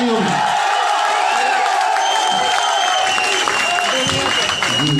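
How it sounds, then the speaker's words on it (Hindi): Audience applause at a mushaira, an Urdu poetry gathering, in a Bahawalpur banquet marquee: a loud, dense, sustained wash of clapping from a large crowd, mixed with murmurs and crowd noise throughout. "आपकी भरपूर तालियों में।"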